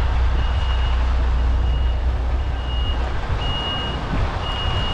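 A MAN truck reverses at a delivery site, its reversing alarm beeping in spaced high tones over a loud, rumbling diesel idle close by, no talk.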